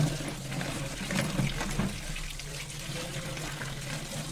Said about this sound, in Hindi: इसको धोने के लिए मैंने बेसिन में रखा है और इसको इस तरीके से डाल देंगे पानी में।